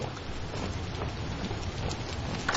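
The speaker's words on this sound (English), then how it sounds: "Rainy as all get out" Steady rain falling in the video game Vintage Story, a dense continuous hiss of rain on surfaces with occasional heavier drops, close and even throughout.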